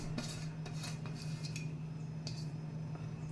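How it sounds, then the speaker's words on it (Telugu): Chopped coriander goes into pumpkin soup in a pot with a few faint metallic clinks and taps of a utensil against the pot over a low steady hum. "ఇదిగోండి, కొత్తిమీర కూడా వేస్తున్నాను"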